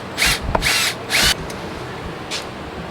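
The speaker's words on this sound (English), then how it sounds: "This would be a lot easier with an impact, but the impact's not here. So we're using a screwdriver." A power screwdriver drives screws into a brand-new GMC Denali pickup while a Midland MXT500 radio is being installed, giving three loud, close whirring bursts, a short click and a fainter final burst.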